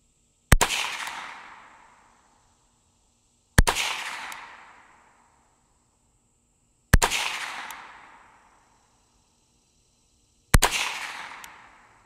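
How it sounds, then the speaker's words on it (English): Four sharp .22 rifle shots with CCI Copper ammunition, fired at a target 25 yards away, evenly spaced about three seconds apart, each loud crack trailing off in a short ringing decay, with no talking. "Let's see what kind of 5-shot group we can get with this new Cci Copper 22."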